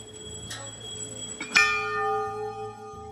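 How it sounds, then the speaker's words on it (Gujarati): Temple bells ring at Dhari Devi temple in Uttarakhand, where many bells hang all around: two clear metallic strikes about a second apart, the second louder, each leaving a long shimmering ring over a low background hum. "ચારે સાઈડ ઘંટી લગાવેલી છે એવું લાગે છે."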